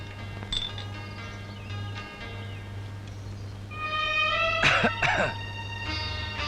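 Two quick, harsh coughs close by, following a steady hum and faint tonal music in the background.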